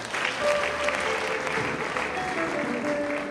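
Enthusiastic applause from a wedding gathering at a church-style ceremony in Rubavu, dense steady clapping from many hands throughout, with a sustained tone ringing faintly underneath.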